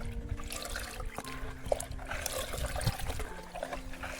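Mustard oil cake fertilizer is stirred into a half bucket of water, making soft, continuous sloshing and trickling close by, with no talking.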